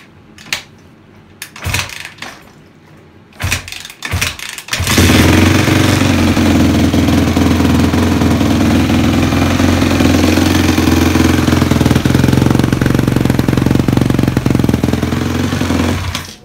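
A Honda CRF 250 R motorcycle under restoration turns over with a few sputtering attempts, then catches and settles into a loud, steady, raspy idle that runs on without break.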